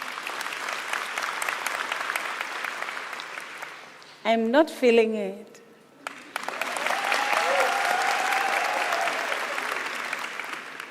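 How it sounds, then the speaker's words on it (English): Audience applause at a University of South Africa spring graduation ceremony, a dense sustained clapping from a large crowd that breaks briefly for a short spoken phrase, then swells again and continues loud and steady. "I think he deserves a round of applause."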